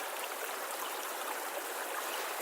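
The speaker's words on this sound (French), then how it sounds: "Maintenant, on va mettre le couteau dans l'eau." A steady, moderately loud rush of a flowing stream fills the whole stretch with no break, as a survival knife is lowered into the cold water; no distinct splash stands out above the constant babble.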